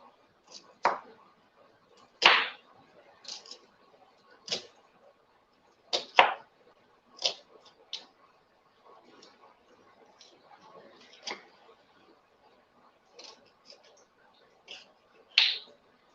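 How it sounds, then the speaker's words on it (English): A knife slices through an onion on a cutting board in sharp, distinct chops spaced irregularly, roughly a dozen crisp close strikes with quiet pauses between them. "And then we're just going to cut the other onion now"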